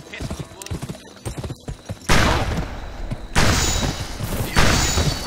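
Horse hooves clip-clop in a steady galloping rhythm in the Western video game Gun, followed by loud broadband bursts resembling gunfire that swell and drop several times.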